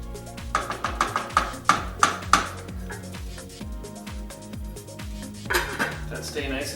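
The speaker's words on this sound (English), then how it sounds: "Put the lid back on it." A lid is set back onto a pot of jambalaya in a home kitchen. A run of sharp metallic clanks and knocks is followed by quieter handling sounds, with a person talking over parts of it.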